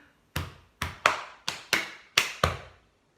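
A school music lesson's body percussion pattern: seven crisp hand taps on the body in a steady, syncopated rhythm, finishing with a tap on the chest, close-miked and without voices.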